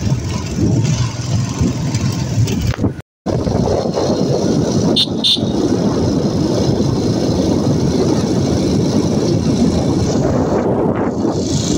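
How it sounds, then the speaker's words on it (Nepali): Motorbikes in a large group ride toward a tourist town, their engines droning in a loud, continuous rumble with steady road noise, close by, briefly cutting out once. "यति बेला देख्न सक्नुहुन्छ हामी बाइकमा जम्बो टोलीको साथमा जाँदैछौँ"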